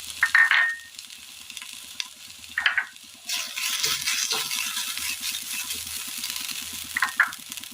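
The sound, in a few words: crushed coconut mixture frying in oil in a pan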